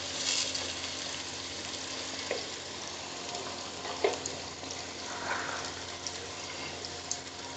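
Onions frying in a pan for aloo bharta, a soft continuous sizzle with a few light clicks and scrapes of stirring scattered through it.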